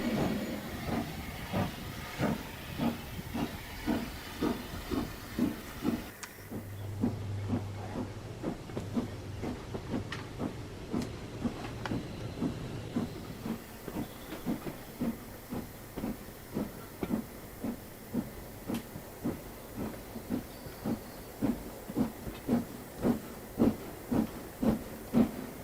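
Southern Railway King Arthur class N15 steam locomotive 742 hauling a short train away, with a strong rhythmic chuffing exhaust beat, steady hiss of steam and clattering wheels as it pulls off and recedes.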